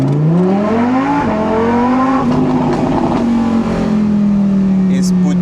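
A Lamborghini Huracán's naturally aspirated engine revs loudly up close, its pitch climbing twice in rising sweeps before settling into a strong, steady drone.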